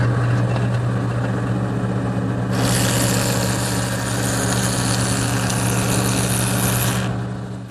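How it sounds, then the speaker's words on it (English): A jointer with its fence tilted to 15 degrees planes a bevel along wooden stiles and rails for a Shaker washstand, the steady machine whine rising into a loud, continuous cutting roar for about four and a half seconds before easing off. "So to do that, I've set up my joiner, and I've tilted the fence to 15 degrees"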